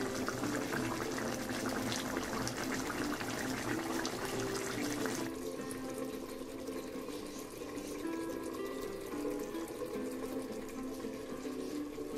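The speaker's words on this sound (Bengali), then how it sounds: "দেখছো তোমরা মাংস ফুটছে।" Bengali mutton curry with potatoes boils in a pot, giving a steady, close bubbling and churning of liquid that runs for about twelve seconds and eases slightly in the second half, with no one talking.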